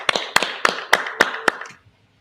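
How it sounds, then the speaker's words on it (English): A few people clap together, seven or so sharp, distinct claps in an uneven rhythm, close and fairly loud, stopping abruptly into near silence. "Let's clap it up."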